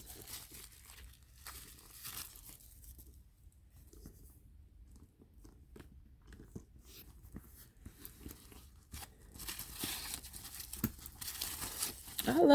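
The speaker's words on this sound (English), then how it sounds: "I will start with unwrapping the handles." Plastic packaging is torn and crinkled away from the handles of a new Coach handbag, giving soft close rustling and ripping sounds in short bursts that grow louder toward the end.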